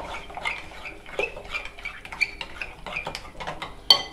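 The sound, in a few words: mixing chili dip ingredients in a bowl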